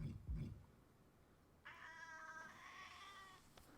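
A domestic cat meows in a drawn-out, wavering call that starts partway through and holds to the end, close and fairly loud over a quiet room after a brief low thump at the start.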